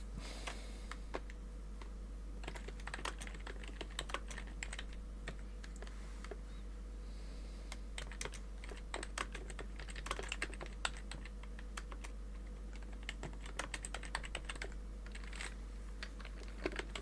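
Keys on a computer keyboard clatter in quick, irregular bursts of soft clicks, close and quiet over a steady low hum, with no voices.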